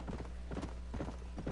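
Steady clip-clop of horse hooves in the Red Dead Redemption video game, a regular trotting rhythm close up over a constant low engine-like hum, with no voices.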